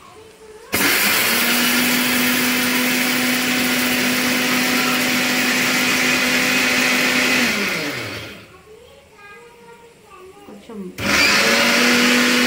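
Roasted fenugreek, cumin and mustard seeds are ground in an electric mixer grinder, which runs with a loud, close, steady whine for about seven seconds, winds down, then starts up again briefly, with a few spoken words in the pause.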